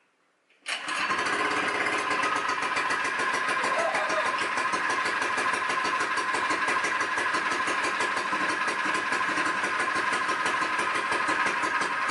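A Predator 79cc small engine catches abruptly after a brief quiet start, then runs steadily and loudly at a fast, even idle with a dense rhythmic chug throughout, no voices over it.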